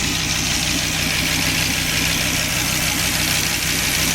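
A 2003 Dodge Viper SRT-10 V10 engine idling, a steady, loud low rumble with an even, continuous exhaust drone throughout.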